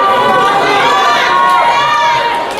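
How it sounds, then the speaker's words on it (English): Wrestling fans at a CWE show shouting catcalls and screaming during a bout, a loud, dense crowd roar with overlapping yells and shrieks filling the whole stretch. "Fans are just calling out cat calls, screaming at Rob Stardom"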